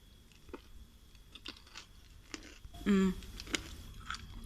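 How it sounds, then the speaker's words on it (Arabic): Eid chocolate is bitten and chewed close to the mic: scattered crisp crunches and small wet chewing clicks, with one louder bite near the middle, in a quiet room. "ادوقها قدامكم"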